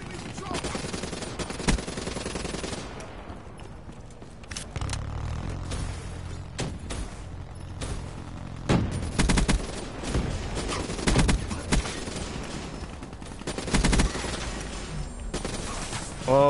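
Rapid bursts of gunfire in a multiplayer first-person shooter, sustained automatic fire with loud repeated volleys and thumps throughout, dense and close.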